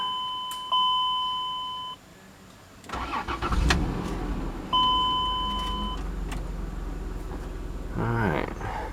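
A Chrysler Pacifica rescued from a scrapyard chimes twice with dashboard beeps, then its engine cranks and catches, settling into a steady idle nearby with a short rising whine near the end.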